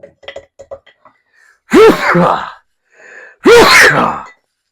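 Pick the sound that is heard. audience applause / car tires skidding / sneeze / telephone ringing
sneeze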